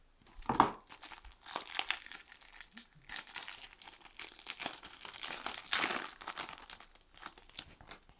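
A trading card booster pack of a special edition tearing open and crinkling up close, in several bursts of foil rustling and ripping with short pauses between.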